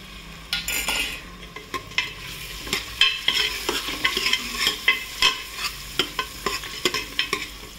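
Liver pieces fry with roasted onion in a pan, giving a steady sizzle under repeated scraping and stirring strokes of a utensil against metal, close and continuous with rhythmic clinks.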